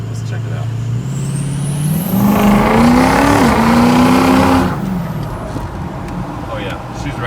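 A modified Ford Excursion with a 6.0 Powerstroke diesel, different turbo, fuel system, tune and oiling system, revs hard and close, its engine note climbing, holding loud for a couple of seconds, then dropping back to a steady rumble.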